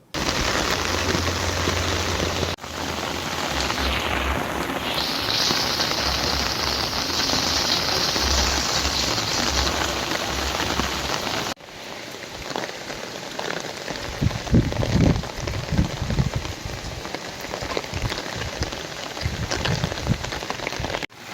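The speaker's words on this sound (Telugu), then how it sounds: "శుక్రవారం సాయంత్రం కురిసిన భారీ వర్షంతో రైతులు ఆనందం వ్యక్తం చేస్తున్నారు" Heavy evening rain falls over farmland in a steady, loud hiss, with a sharp cut partway through and bursts of louder splashing and pattering afterward.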